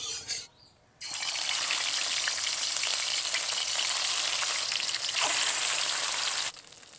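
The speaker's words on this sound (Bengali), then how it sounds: "লবণ হলুদ মেখে রাখা মাছগুলো এবার আমি ভেজে নেব" Katla fish pieces coated in salt and turmeric fry in hot oil, a bright, steady sizzle that bursts in after a quiet second and holds loudly before dropping away near the end.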